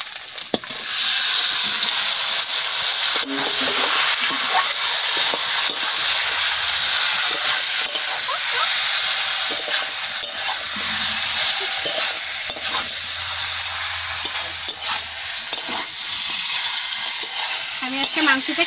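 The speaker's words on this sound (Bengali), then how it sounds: "মশলা আমার লাল লাল করে ভাজা হয়ে গেছে, আমি এখন মাংস দিয়ে দিচ্ছি।" Chicken meat fries in oil with spices in a home kitchen pot, a loud, steady sizzle and hiss with repeated scraping stirs and clinks, close up and without talk throughout.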